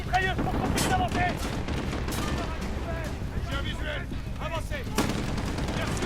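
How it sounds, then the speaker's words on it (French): Video game firefight, Modern Warfare, with steady suppressive gunfire against a machine gun: continuous dense shots and rattling bursts with booming impacts throughout, loud and close, with voices shouting beneath the battle noise. "Tir de suppression contre cette mitrailleuse pour qu'on puisse avancer."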